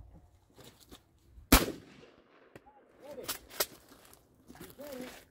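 Shotgun blasts from an Ithaca Model 37 Featherlite 12 gauge fired at clay targets outdoors, three or four sharp loud reports spaced a second or two apart, with people talking quietly between the shots.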